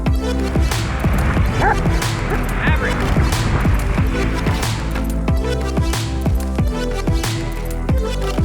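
Dogs aboard a sailboat bark repeatedly in loud, close, rhythmic bursts, with yips and whimpers between the barks and some talk underneath.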